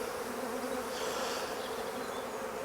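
Honey bees drone in a dense, steady buzz from an open hive during a colony inspection, close and continuous with no talking.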